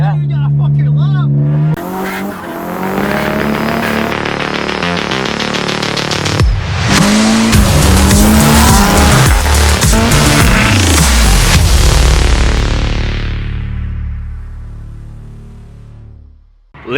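Cars drifting at the Driftland track, engines revving hard with loud squealing tires, one car sweeping close and past before the sound fades away.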